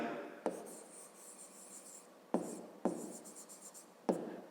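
A pen writing an equation on paper, soft scratchy strokes in several separate bursts with short pauses between them, close and quiet, with no talking.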